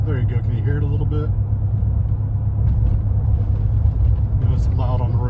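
V8 exhaust of a 2021 Chevy Silverado with 6.2-litre engine and muffler delete, a steady low rumbling drone heard from inside on the road, with someone talking over it at the start and end.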